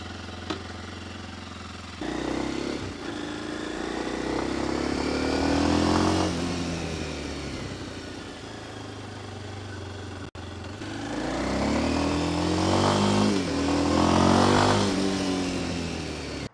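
A supermoto motorcycle is kicked into first gear and ridden nearby, its single engine rising in pitch as it revs, easing off, then climbing again through a second acceleration, alone with no talk.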